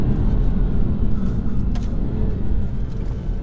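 A Stage 1 tuned 2018 BMW M140i accelerating hard, a heavy, loud, steady low engine rumble with road roar heard from inside the cabin, sustained without a break.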